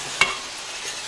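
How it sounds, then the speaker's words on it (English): Sausage gravy bubbling in a pan on the stove with a steady low sizzle, broken by two sharp clinks of a utensil stirring against the pan. "Now see how it's boiling?"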